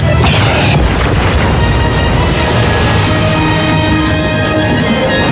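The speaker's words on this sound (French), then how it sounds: "J'arme le missile de destruction." A missile exploding inside a cave in a 1960s puppet TV adventure, a loud, sustained roaring blast with rumbling debris throughout, heavy and continuous without speech.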